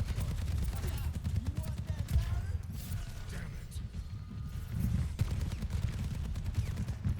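Soldier: 76 rifle fire in Overwatch: rapid, steady bursts of automatic shots with a heavy low thump, running nearly the whole time at close range, mixed with other game sounds and a voice talking over it.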